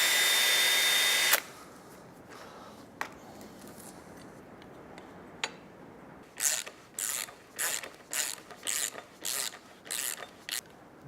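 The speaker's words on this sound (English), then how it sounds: "we can then pre-drill our hole and then fit in our first bolt" After a loud burst at the start and a few sharp clicks, a power drill whirs in a run of about nine short, rhythmic bursts, close by, pre-drilling a bolt hole in a fence rail.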